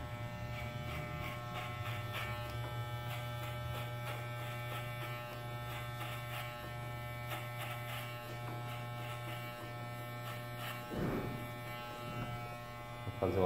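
Electric hair clippers with a number 1 guard cut hair in a close steady buzz with a low hum, continuous for over thirteen seconds with slight variations as the blade moves through hair.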